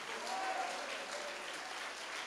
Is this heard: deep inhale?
no